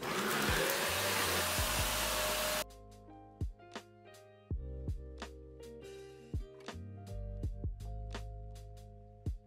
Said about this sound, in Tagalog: Ang next na gagawin natin ay magpa-vacuum tayo.